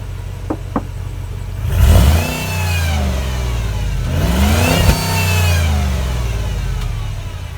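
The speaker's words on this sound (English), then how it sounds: "I'm gonna let it warm up and then do a few revs." A 13-year-old Jeep Commander's 5.7-litre engine idles while warming up, then revs twice in rising, falling sweeps with a slower swell after, close and loud over a steady idle hum.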